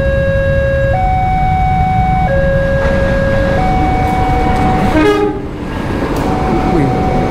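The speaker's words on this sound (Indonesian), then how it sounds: "masinisnya ngelakson ke aing, cu" A train near Cileunyi passes very close, sounding long, loud horn blasts that step between pitches over a heavy continuous rumble of the rolling train.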